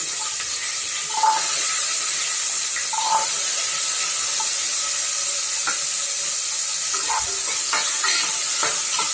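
Shallots and garlic sautéing in oil inside a pressure cooker give a steady soft sizzle, with a few faint scrapes and clinks of stirring scattered throughout and no talking.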